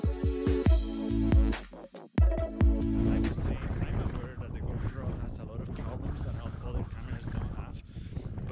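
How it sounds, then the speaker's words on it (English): Strong wind buffets the built-in microphone of a GoPro Hero 7 on a windy mountain hike in Andorra, a dense, rumbling roar that follows a short stretch of talking and keeps going steadily. "very windy up here, so this should be a good test for the audio on the GoPro"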